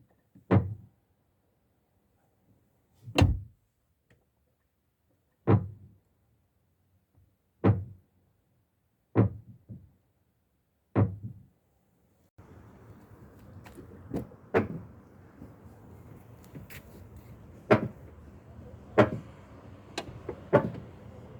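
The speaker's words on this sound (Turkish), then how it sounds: "sol ön kapıyı açtığımızda sol ön kapı, sol ön çamurluğa deyip gacırtı ses çıkarıyor." A front left door on an Opel Crossland, rubbing against the fender after an accident, gives six clear, evenly spaced creaks or knocks in quiet surroundings, then more of the same under a steady background hiss.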